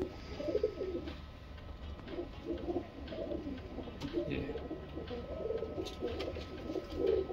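Pigeons coo in soft, repeated rounded calls throughout, close by, over a steady low background hum.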